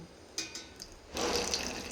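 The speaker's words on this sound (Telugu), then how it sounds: "ఇంకా మనం దీంట్లో కూడా కొంచెం వాటర్ పోసుకుని" Water is poured into a bowl of tomato seeds, a soft liquid splash and trickle that starts after a few faint taps and runs on quietly for the last moments.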